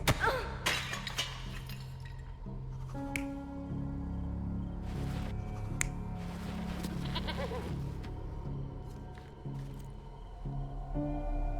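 A goat bleats several times in the Sherlock Holmes Chapter One video game, short nasal calls scattered across the stretch over low ambient game music and occasional clattering hits.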